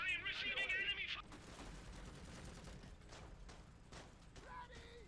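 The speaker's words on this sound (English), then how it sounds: "I am receiving enemy fire." Gunfire from the Iron Harvest strategy video game rattles in scattered bursts and pops at moderate distance beneath game music, with a brief spoken voice line near the start.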